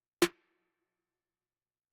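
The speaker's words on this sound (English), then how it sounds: "So with the snare and kick together, you're gonna get it like that." A single sharp combined kick and snare drum hit, dry and punchy, followed by silence.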